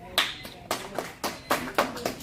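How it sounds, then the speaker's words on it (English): A few people in a meeting clap, giving sparse, uneven claps spaced irregularly, fairly close and moderately loud. "no clapping, please."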